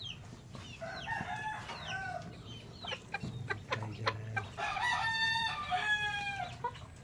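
A roundhead rooster with yellow legged hatch blood clucks and calls nearby among other chickens, with bursts of crowing and clucking throughout and no talking.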